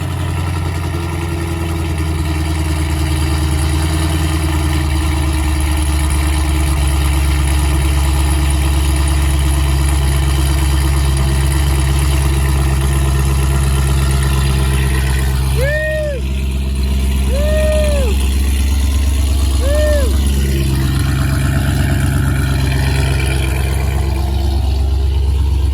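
A 6th-generation Camaro engine runs at a steady, close, loud idle throughout, with a few short electronic chirps sounding over the rumble partway through.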